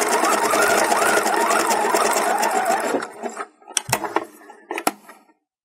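A sewing machine stitches Lycra fringe in a steady, fast whirring run for about three seconds, then stops, followed by a few light clicks and handling sounds, close and clear.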